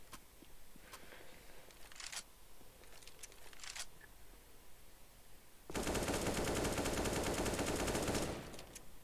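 Gunfire in the video game Counter-Strike (CS:GO): a few scattered clicks and single shots, then a long loud burst of rapid automatic fire for about three seconds before it cuts off.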